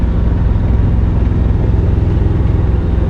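Inboard engine of a Shannon 28 sailboat pushing at full throttle against a current, a loud, steady, close droning hum with an even throb and no voices.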